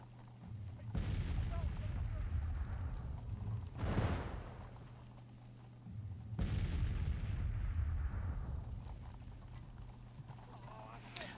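Counter-battery artillery fire in the Grand Tactician video game sounds as three heavy booms about two to three seconds apart, each with a long rumbling tail over steady low battlefield noise.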